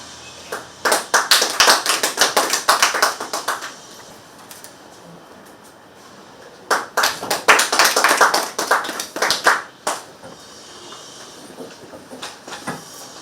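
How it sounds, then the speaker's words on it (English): Audience members at a military handover ceremony clap in two distinct bursts of crisp, scattered claps, each lasting about three seconds with a pause between, followed by a few faint final claps. "People, you clap."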